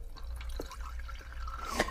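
Water trickles and drips from the spout of a Berkey-style gravity filter with a carbon and ceramic core, a faint, quiet flow with a few brighter drops.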